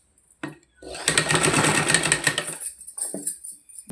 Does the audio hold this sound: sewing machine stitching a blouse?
yes